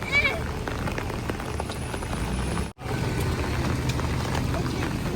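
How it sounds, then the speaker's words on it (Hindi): Heavy rain pours steadily in a dense, continuous hiss, with one brief dropout midway through the roar. "ये देखें, अब तो और भी तेज़ हो गई है बारिश"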